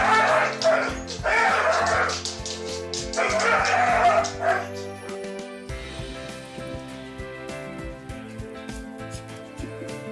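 An excited dog barks, yips and whimpers at a reunion with its owner, loud close bursts in the first half giving way to softer whines, with faint talk mixed in.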